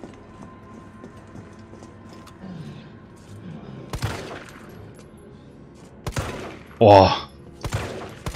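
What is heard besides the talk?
gunfire in the video game Resident Evil 3 Remake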